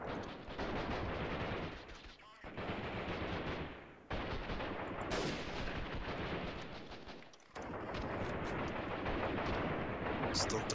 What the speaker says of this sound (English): They are throwing a bunch of grenades.